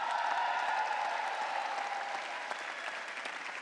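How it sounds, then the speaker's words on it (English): Graduates at a 2017 graduate school commencement ceremony applaud themselves, a dense, steady wash of clapping from a large crowd that stays even and slightly distant throughout. "Give yourselves a round of applause."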